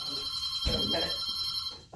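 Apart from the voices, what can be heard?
old telephone bell ringing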